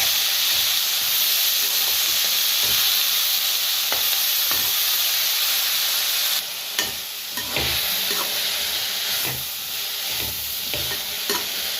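Coriander, curry leaves and mint sizzle in hot oil for a chutney, a steady close frying hiss with occasional spatula scrapes and knocks, growing more broken in the later part; no one speaks.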